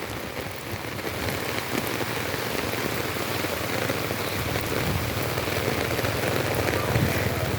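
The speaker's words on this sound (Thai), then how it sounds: "แล้วก็ฝนก็ยังตกอยู่มาเรื่อย ๆ เลยนะครับ" Heavy rain pours during a flood, a dense constant hiss of drops pattering on surfaces close by, with a faint low rumble beneath and no voices.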